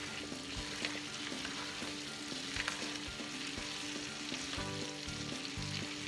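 Red potatoes frying in a pan are stirred steadily, a constant close sizzle broken by repeated scraping knocks of the utensil against the pan, with no talking.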